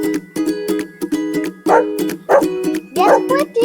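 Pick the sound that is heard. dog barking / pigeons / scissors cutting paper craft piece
dog barking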